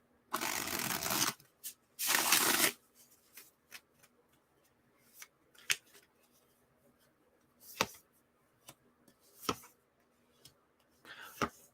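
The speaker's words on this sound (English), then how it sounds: "I know I shuffle way too much." Two loud bursts of tarot card shuffling up front, followed by scattered soft taps and card snaps in an otherwise quiet room.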